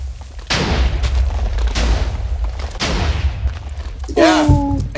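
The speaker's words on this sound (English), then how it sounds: "It exploded behind it." Three booming blasts from TNT exploding in a Minecraft Breaking Core match, each a sharp loud burst with a rumbling tail, spaced about a second apart, followed by a brief tonal game sound near the end.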